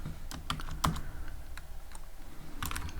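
Fingers type on a computer keyboard, a steady patter of close, light key clicks with a few sharper strikes, no voices.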